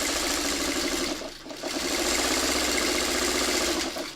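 Sewing machine stitching through leader-ender fabric scraps during quilt piecing, a steady fast mechanical whirr running continuously with a brief dip in the middle.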